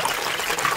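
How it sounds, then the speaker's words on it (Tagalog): Water trickles steadily from a spring-fed faucet at a rural Mangyan village in the province, a close, continuous splashing with no talk. "eto na yung aming gripo"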